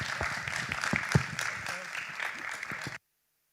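A conference audience claps for a panel on a festival main stage, a scattered, moderately loud patter of hands that runs a few seconds and then cuts off abruptly into silence.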